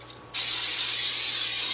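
Cooking spray hisses steadily onto a pan for sautéed asparagus after a brief quiet start, close and fairly loud, with no talking.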